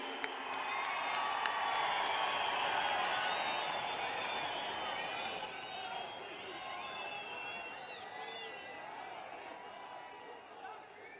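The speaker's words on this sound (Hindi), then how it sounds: "आपकी जोरदार तालियों में माननीय प्रधानमंत्री जी।" A large crowd applauds and cheers to welcome the Prime Minister at a Panchayati Raj Diwas gathering in Jammu and Kashmir, with loud, dense clapping and a few whoops that slowly thin and fade over about eleven seconds.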